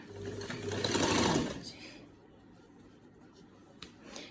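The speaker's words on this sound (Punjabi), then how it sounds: "ਹੁਣ ਆਪਾਂ ਸਲਾਈ ਲਾਵਾਂਗੇ ਤੀਰੇ ਵਾਲੀ" A sewing machine stitching a lined shirt runs in a brief close whirring burst, then stops, leaving faint handling sounds and a quiet room.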